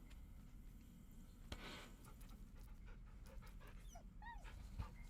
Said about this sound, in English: And you can pet the dog.